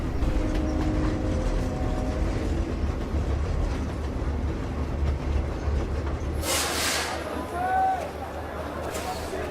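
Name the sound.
train travelling on railway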